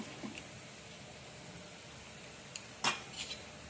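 Coriander powder stirred into a cooking pan for palak kofta curry, heard as faint scrapes and a couple of sharper metallic clinks of a spoon against the pan, quiet and close with no talking.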